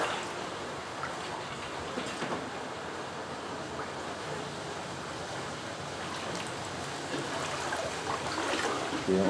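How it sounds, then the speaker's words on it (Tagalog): Floodwater inside a flooded house, knee-deep, sloshing and trickling as a steady broadband watery wash throughout, with faint voices in the background. "Ito yung baha."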